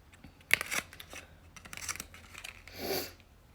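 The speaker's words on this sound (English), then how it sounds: "when you have to cut the lash" Scissors snip through a false eyelash strip during a bridal makeup application, a few quick close crisp cuts followed by a brief rustle.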